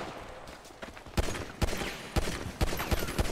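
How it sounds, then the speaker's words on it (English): Bursts of automatic gunfire from a GTA NoPixel roleplay shootout, several loud rapid volleys with sharp individual shots cracking out over a continuous background of game noise. "This guy got lit up by like 20 bullets"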